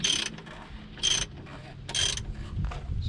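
A hand ratchet tightens the oil drain plug on a fifth-generation Toyota 4Runner, three short bursts of rapid clicking separated by brief pauses, close and fairly quiet.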